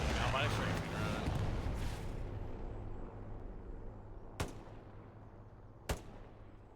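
Strafing run in Hell Let Loose: a heavy roar of rapid gunfire and rumbling blasts that fades out, followed by two sharp isolated distant shots, with voices talking underneath.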